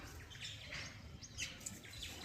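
Birds catching insects in flight give scattered, fairly faint chirps and tweets over a soft outdoor background.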